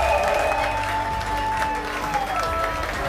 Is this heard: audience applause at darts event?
yes